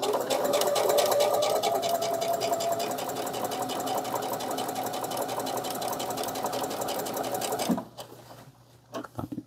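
A sewing machine stitches a fabric tea coaster in one steady, fast, continuous run of rapid needle clatter up close, then stops abruptly, leaving a few faint handling clicks.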